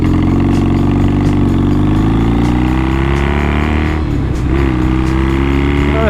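A Triumph Bonneville motorcycle engine roars loudly and close as it accelerates, its pitch climbing steadily, then briefly dropping as it shifts before rising again.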